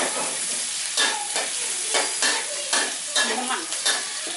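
Onions fry in a hot pan for Thai fried rice, a continuous loud sizzle broken by repeated rhythmic scraping strokes of a spatula stirring against the pan, with no talking.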